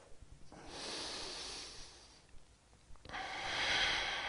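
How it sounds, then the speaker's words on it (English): Slow, deep breaths during a passive yoga stretch: one long airy exhale, a quiet pause, then another strong breath, close and clear with no talking. "One more breath."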